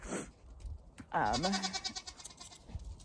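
Goats on a small farm bleat in a loud, wavering call that stands out close by, with a brief quieter bleat earlier and some background noise around it.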